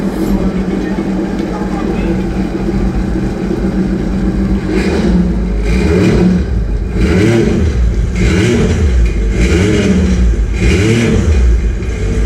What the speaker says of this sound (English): start it again the second time, 2 revs, good revs, turn it off